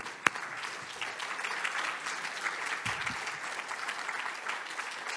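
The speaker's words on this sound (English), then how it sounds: "let's give those folks a round of applause" An audience at a health equity community event at Baden Street applauds staff members as they stand up. Even, continuous clapping from a mid-sized crowd holds steady for several seconds, with one sharp clap near the start and no talking.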